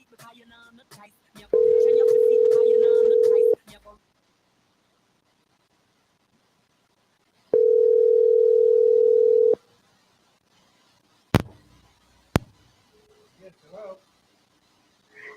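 An incoming call on a Brooklyn radio show's telephone line sounds as two long, steady electronic tones, each about two seconds, separated by silence, with faint voices around them and a couple of sharp clicks afterward.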